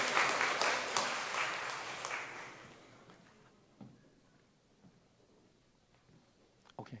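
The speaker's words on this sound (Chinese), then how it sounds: "掌声来谢谢我们所有父亲" Church congregation clapping in thanks for the fathers at a Sunday service, a brief burst that fades out over a few seconds, leaving scattered small sounds.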